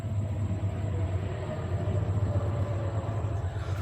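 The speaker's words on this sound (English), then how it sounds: "Oh, there's a train close by." A train rumbling past very close by, a deep continuous rolling drone holding steady and loud for several seconds, heard alone.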